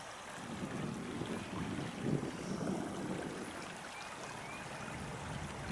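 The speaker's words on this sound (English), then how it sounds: "Get an idea of how fast the water is running right here." Steady rushing water fills the scene, a broad continuous roar of a fast-flowing river with some wind buffeting, no voices.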